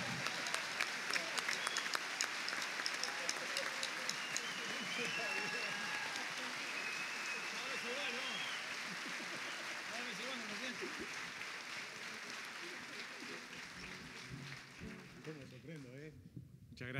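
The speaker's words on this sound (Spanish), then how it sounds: "Con un fuerte aplauso vamos a recibir a un gran amigo" An audience claps and cheers to welcome a singer-songwriter, a sustained wave of applause with crowd voices that fades toward the end.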